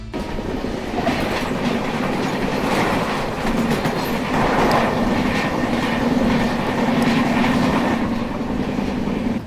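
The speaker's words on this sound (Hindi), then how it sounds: "बाकी सामने से झेलम एक्सप्रेस आ रही है।" Jhelum Express train passing on a railway line near the Budhni ghat section, a steady loud rumble of rolling wagons with rhythmic wheel clatter, heard close throughout with no voices.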